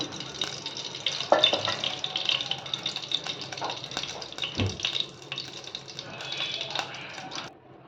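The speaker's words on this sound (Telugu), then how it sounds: "ఆయిల్ వేడుకుతున్నప్పుడు ఈ మకానా వేసుకొని చక్కగా వేయించుకోవాలి" Steady sizzling and crackling of fox nuts (makhana) frying in hot oil in a bowl, with occasional stirring clinks, close and moderately loud throughout.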